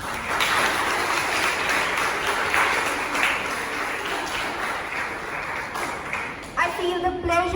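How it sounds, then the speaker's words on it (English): Steady applause from a school assembly audience honours a former school captain, continuous and fairly full, with a voice starting to speak in the last second. "They deserve a huge round of applause,"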